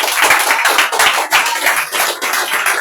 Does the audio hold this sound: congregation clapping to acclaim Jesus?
yes